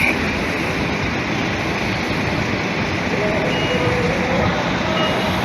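A large diesel bus engine rumbles steadily close by as it pulls into a bay at Bursa bus terminal, with a reversing beep and faint station noise in the background.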